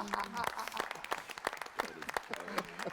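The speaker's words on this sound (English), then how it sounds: "Give these guys a round of applause." Applause from the crowd at a Best in Show presentation at the NAMM Show 2024, a steady wash of clapping that runs for the whole stretch, with a voice speaking over it.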